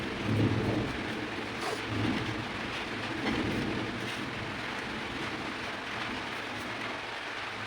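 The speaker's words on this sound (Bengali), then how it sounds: "বৃষ্টি হলো না খালি মেঘ ডাকছে আর হাওয়া দিচ্ছে" Low thunder rumbles faintly in the distance over a steady wash of wind and light rain, with a couple of swelling rolls early on.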